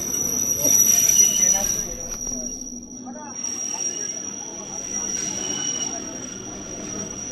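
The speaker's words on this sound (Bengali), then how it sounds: "ট্রেন যাচ্ছে।" A train passes with its wheels squealing: a sustained high-pitched metallic whine runs throughout over a low rumble of moving carriages, heard from nearby while people talk.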